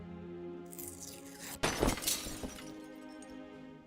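Birds smash through a stained glass window in the adventure game Deponia Doomsday, a single loud crash of shattering glass followed by a tail of tinkling shards, set over a quiet sustained musical background.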